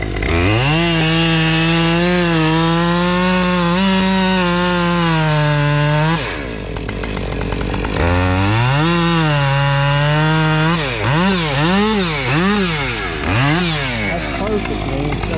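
Chainsaw cutting into a tree during felling, a loud close engine whine that holds steady, then drops and revs up and down repeatedly as the cut is worked.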